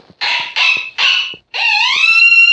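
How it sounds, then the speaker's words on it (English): Electronic coyote caller sounding a howler call: three short, loud, close yips followed by a long, drawn-out rising howl that holds to the end, with no voices. "This is a coyote howler."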